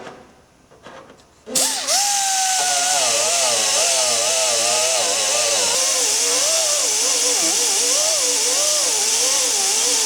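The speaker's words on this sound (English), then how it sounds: "I'm going to grind off the paint" An angle grinder strips paint from an airplane's skin to expose the rivets, starting abruptly after a quiet moment and then running loud and steady, its whine wavering as the disc bites into the metal.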